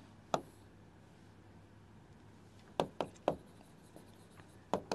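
Words being written on a board, heard as a handful of short, crisp scratching strokes, one early, then a quick cluster and a final pair, against an otherwise quiet room.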